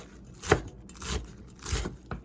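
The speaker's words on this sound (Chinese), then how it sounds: "然后那个9层塔的叶子，我们把它洗干净以后，就把它切碎" Thai basil leaves chopped with a knife on a board, a few sharp, close chops spaced unevenly over a quiet background.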